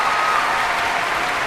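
A burst of applause and cheering, steady and fairly loud, fills the whole short moment, celebrating the arrival of a New York City press pass, with no talking over it.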